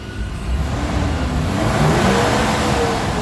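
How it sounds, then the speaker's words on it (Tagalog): A Mitsubishi Adventure engine revs up steadily, a loud close rising drone that builds over a few seconds, with no talking. "Tingnan nyo kailangan galitin natin yung makina."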